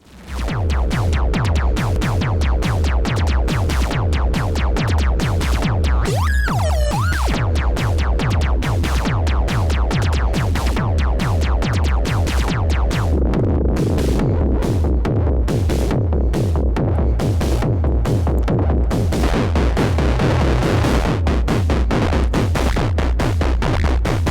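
A drum synthesizer plays a steady, punchy electronic beat with deep kicks and clicky percussion, joined midway by a brief pitched sweep, continuous and loud.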